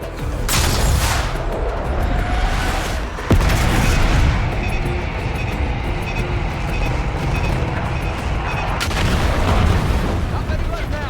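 Heavy bombardment in Call of Duty: Black Ops 6, with dense rolling booms and gunfire-like crackle running continuously and loud, sharp impacts at the start and near the end.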